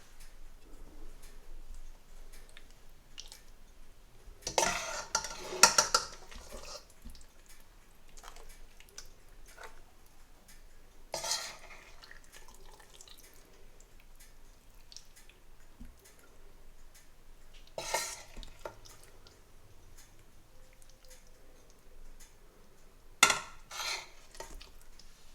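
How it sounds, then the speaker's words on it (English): Saag Gosht spooned from a pot into a copper pan, with soft clinks and a few brief louder scrapes of a spoon against metal, spaced out over a quiet background. "I'm going to spoon out some Saag Gosht in this copper pan"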